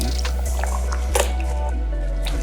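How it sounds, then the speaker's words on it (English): Fabric being washed by hand in water: wet squishing and dripping sounds, close, with a steady low hum underneath and no talking. "So I'm just gonna thoroughly wash it by hand, just like the pioneers would."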